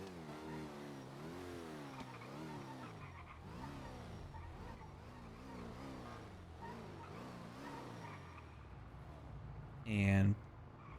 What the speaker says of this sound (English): this engine sound isn't exactly great either